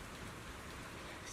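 Steady rain hisses evenly in Zenless Zone Zero, a soft, continuous patter with no distinct drops or thunder, fairly faint and uninterrupted over a brief moment.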